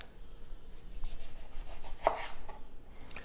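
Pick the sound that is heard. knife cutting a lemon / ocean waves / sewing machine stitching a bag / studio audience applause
knife cutting a lemon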